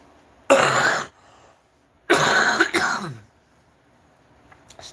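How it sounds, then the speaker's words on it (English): A person coughs and clears their throat in two close, loud bursts, the second longer and broken, separated by a short silence. "Still dealing with this cough."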